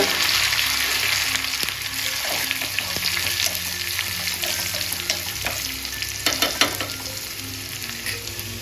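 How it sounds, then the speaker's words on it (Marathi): Tadka of mustard seeds, dried chilies, curry leaves and asafoetida sizzling steadily in hot oil, a dense continuous crackle with scattered pops and a brief louder burst near the end, no voices. "गॅस बंद करते तडका तयार आहे"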